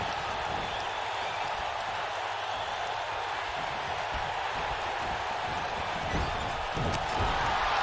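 Steady roar of an arena crowd in WWE 2K19 during an Iron Man wrestling match, a dense continuous cheer with a few thuds near the end.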